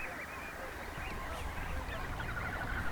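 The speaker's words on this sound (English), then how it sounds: "Like these ducks at Pine Coulee Reservoir." Ducks and geese calling at Pine Coulee Reservoir, a steady dense chorus of overlapping honks and quacks at a moderate distance, continuous throughout with an outdoor wash behind it.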